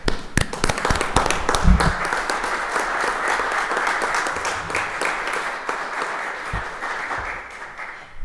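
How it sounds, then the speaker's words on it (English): Applause from the attendees of a town council special meeting, a dense sustained round of clapping with a few sharp louder claps at the start, fairly close and filling the room before slowly tapering. "at some point, we should give him a round of applause"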